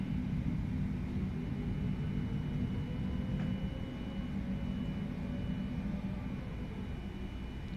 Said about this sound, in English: Reverses are in, braking.